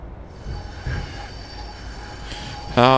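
Passenger train creeping slowly into platform 1 at Wolverhampton station on a Birmingham New Street to Crewe service, a steady low rumble with faint wheel noise, ending in a sudden bright, loud tonal squeal or horn-like burst.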